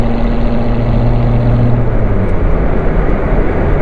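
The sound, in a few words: manual Chevrolet Corvette C7 Z06 engine shifting gears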